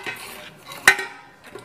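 A knife and cutlery clatter against dishes in a quick, close burst, with one sharp metallic clink standing out over faint kitchen handling sounds.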